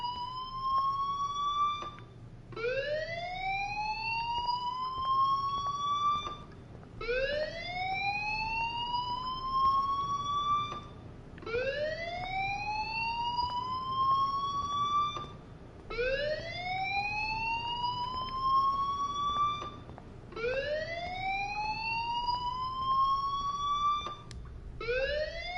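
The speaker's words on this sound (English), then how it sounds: "Hey, do you hear that fire alarm? That means you should be outside." A fire alarm in a PS4 video game sounds a loud whooping tone, each rising sweep lasting a few seconds and repeating steadily for about six cycles, with no talk over it.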